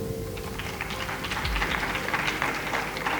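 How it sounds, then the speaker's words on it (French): Applause from the audience at a school quiz competition between two secondary schools, a broad steady wash of many hands clapping at moderate distance, continuous for the whole stretch with a faint hum underneath. "on les applaudit"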